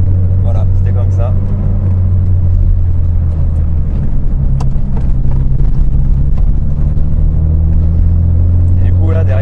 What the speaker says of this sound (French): là derrière on a un joli bruit quand même, c'est l'échappement d'origine